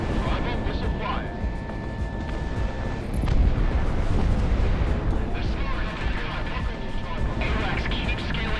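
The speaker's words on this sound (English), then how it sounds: "Bravo, missile fire." Missile fire and combat rumble in the Project Wingman flight game, a steady roaring barrage with a louder swell of launches midway, continuous and dense under radio chatter.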